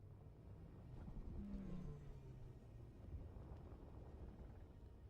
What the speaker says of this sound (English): I think that's supposed to be an engine sound